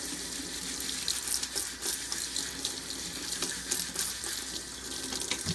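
Tap water runs steadily into a sink while a glass is rinsed under the stream, a continuous close splashing hiss with small shifts as the glass moves through the flow; no voices.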